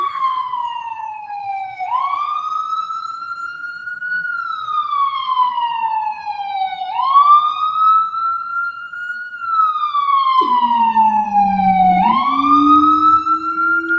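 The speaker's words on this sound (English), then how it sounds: "Waiting for the siren to pass a little bit." A wailing siren sweeps up and down in long cycles, loud and steady, as an emergency vehicle passes nearby in New York with a low horn-like tone joining near the end.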